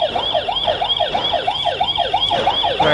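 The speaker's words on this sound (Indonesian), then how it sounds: "Ini alarm. Kalau diaktifin." A DEON smart home alarm siren is switched on, wailing loudly in quick, repeated rising-and-falling sweeps that continue steadily for the whole stretch with no one talking.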